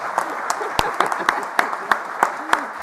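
An audience at a college funding announcement in Scarborough claps in welcome for a government minister, a short burst of close, moderately loud applause with sharp individual claps standing out.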